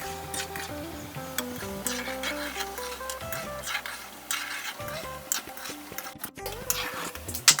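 Gulab jamun being stirred while they fry in hot oil: soft scraping and clinking of a spoon in the pan over a steady sizzle, with background music playing throughout.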